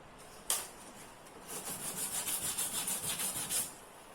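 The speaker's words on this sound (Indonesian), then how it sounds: "sekarang kita amplas kita amplas misalnya yang sebelah sini dengan yang di dalam pemirsa" Sandpaper scrapes back and forth over a broken plastic water bucket being prepared for glue, a sharp tap followed by a run of quick, even rubbing strokes, close and quiet, with no talk.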